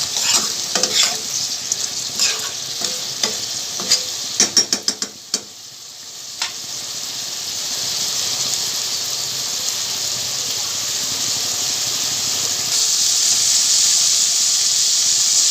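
Eggplant pieces are stir-fried with spices in a hot pan, starting with quick rhythmic spatula scrapes and clacks and then settling into a loud, continuous close sizzle.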